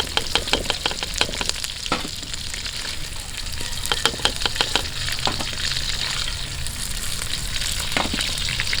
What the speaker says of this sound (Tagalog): Madali lang maluto tong shrimp kasi maliliit to ba.